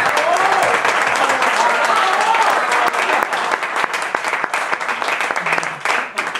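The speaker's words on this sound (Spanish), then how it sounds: "Adrián Hidalgo, un fuerte aplauso para él." An audience at a Latin jazz concert gives a loud, sustained round of applause for a saxophonist, with dense clapping and a few voices calling out that thins slightly toward the end.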